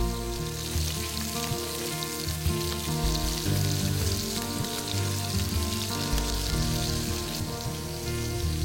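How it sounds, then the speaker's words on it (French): Red mullet fillets frying in a pan, a steady, dense sizzle and crackle of hot fat continuing unbroken throughout, close and even in loudness with no talking. "Laissez cuire pratiquement entièrement du même côté. La chair commence à blanchir sur les bords."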